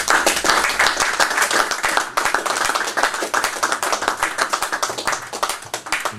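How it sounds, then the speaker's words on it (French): An audience applauds Professor Jean-Luc Marion after his lecture, with loud, sustained, dense clapping close by that carries on at steady strength without a break. "Je crois qu'on peut applaudir le professeur Marion"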